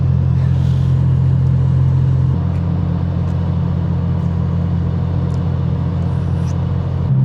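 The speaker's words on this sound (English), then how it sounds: "My engine is stuttering a little bit." A steady low car engine drones throughout while stuttering, with a slight shift in pitch partway through and faint irregular rough patches.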